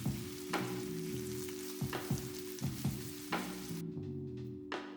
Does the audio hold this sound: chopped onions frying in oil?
yes